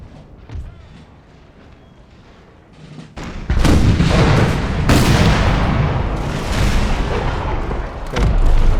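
Artillery canister fire in the strategy game Empire: Total War, a Prussia campaign with cavalry nearby: after a quiet start, loud, dense overlapping booms and gunfire volleys erupt and roll on continuously, with heavier blasts at intervals.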